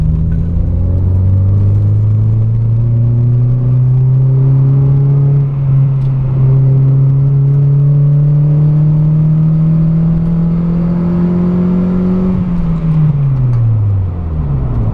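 A boosted Mazda MX5 out on an evening drive, its engine a loud, steady drone that climbs slowly in pitch, holds, then drops away near the end, with no talking.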